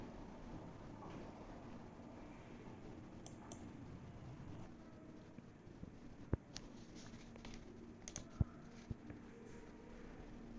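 A computer mouse clicks sharply a few times while an online refund registration form is filled in, the clicks crisp and sparse over a faint, steady background hiss.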